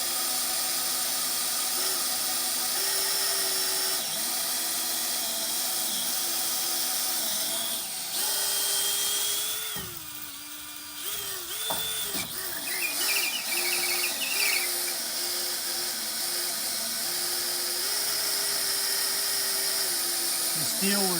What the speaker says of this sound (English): The steel we're drilling through is 1/4 inch thick. That's why it takes so long.